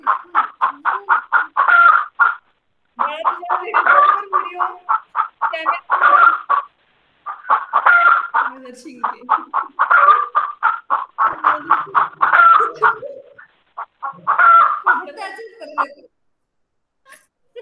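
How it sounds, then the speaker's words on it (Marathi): Chickens give a busy run of loud, close clucking in quick rhythmic bursts with short pauses between them; no clear rooster crow stands out. "आता ते कोंबड्यांना ढकलूनच घेणार"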